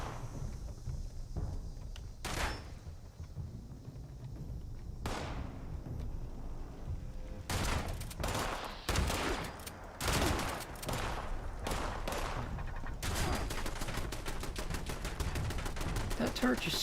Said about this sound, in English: That turret just shoots me from above